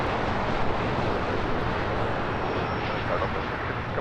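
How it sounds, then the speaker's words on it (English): A Singapore Airlines Boeing 777-300ER jet departs LAX on a south side runway, its engines a loud, steady roar that fills the whole stretch, with a voice talking over the top. "Should be a south side departure for this Singapore Airlines 777-300ER"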